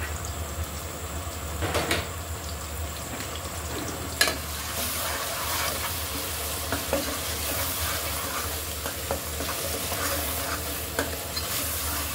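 Onion paste, green chili paste and fish spices frying in oil with a constant close sizzle, while a spoon stirs and scrapes through the pan with occasional louder knocks.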